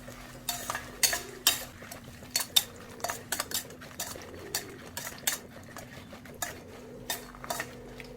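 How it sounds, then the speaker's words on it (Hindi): Sambar masala spices fried in oil in a pan over low heat, with repeated close metallic spoon scrapes and clinks against the pan over a faint steady sizzle. "तो हम थोड़े कम गैस पे इसको अच्छे से ये करेंगे, तेल में फ्राई करेंगे"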